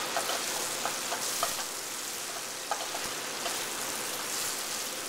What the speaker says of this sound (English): Once our onions start to sweat, we'll get a little clear.